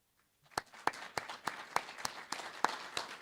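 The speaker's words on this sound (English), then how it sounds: "so keep clapping, please, until he gets up here" An audience applauds at a tribute gathering: a steady run of fairly faint clapping, with several sharper individual claps standing out, no talking.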